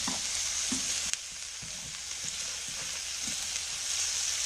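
Butter sizzles and fries steadily in a pan with garlic, rosemary and a venison loin, a continuous close hiss with faint stirring knocks underneath.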